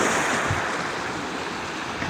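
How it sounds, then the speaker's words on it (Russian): Night surf on the Black Sea at a municipal city beach in Khosta, a constant broadband wash of waves rolling in with no distinct breaks. "Ну и вот ночное Черное море."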